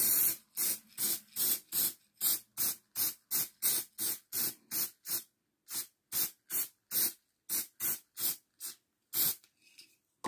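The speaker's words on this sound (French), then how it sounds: "je vais utiliser le spray. Et je vais en mettre un peu de partout." Spray paint is applied to a mixed media tag in about twenty short, sharp hissing bursts, close and loud, evenly spaced with brief silences between them.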